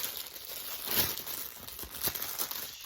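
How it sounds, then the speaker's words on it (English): A packaging sheet crinkles and rustles close by during a diamond painting unboxing, in several soft bursts of crackling. "sorry for the crinkling"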